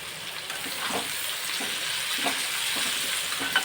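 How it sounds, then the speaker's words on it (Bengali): Potatoes with freshly added chopped onion frying in a pan, a steady close sizzle broken by soft scraping stirs and light knocks, moderately loud with no voices. "আমার আলুটা এপিট ওপিট যখন ভাজা হচ্ছে, তখন আমি এবার দিয়ে দেবো এই যে কুচিয়ে রাখা পেঁয়াজটা।"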